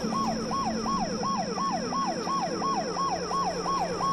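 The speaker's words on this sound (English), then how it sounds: "when an emergency vehicle passes by you, there is a change in the pitch of its siren." An emergency vehicle siren wails in a steady repeating rise-and-fall cycle, loud and continuous over a low traffic rumble, roughly ten cycles in a row.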